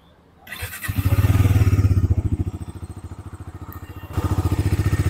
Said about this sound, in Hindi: ये जो है गाइस आइडल साउंड है,